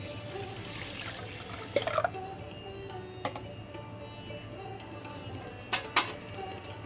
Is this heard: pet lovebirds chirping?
no